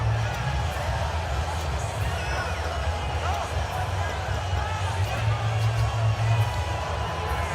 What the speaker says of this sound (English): And this crowd into it early.